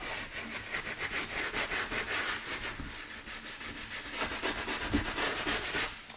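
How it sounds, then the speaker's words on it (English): A wooden scrubber with long bristles works over a pleated leather seat in a Bonanza A36 aircraft, giving close, brisk scratchy scrubbing in quick rhythmic strokes that swell and ease, with no voices. "use the Color Lock wooden scrubber because it's long bristles, so you can get in there and kind of get into that texture a little bit better"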